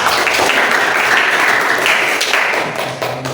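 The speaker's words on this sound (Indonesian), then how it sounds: "Tepuk tangan untuk kelompok 3" Steady, dense applause from a room full of people, clapping continuously and fading slightly toward the end.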